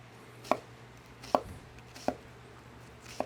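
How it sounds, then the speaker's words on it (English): Four sharp knife strikes on a cutting board as an onion is sliced thin, spaced roughly evenly and close, with quiet background between the chops. "and slice them thin"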